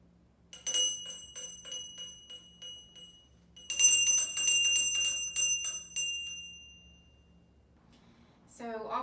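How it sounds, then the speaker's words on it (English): Servant bells in a historic house kitchen, rung by hand: bright metallic rings in rapid repeated bursts, two clusters of shimmering clangs that decay slowly, followed by a brief noise at the end. "So I'm going to ring the first two bells today manually."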